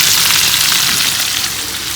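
Marinated chicken for chicken pulao fries in a pan, giving a continuous close, bright sizzle with no talking.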